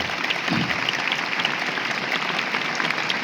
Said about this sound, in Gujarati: આ સર્વેનું તાળીઓના ગડગડાટથી આપણે સ્વાગત કરીએ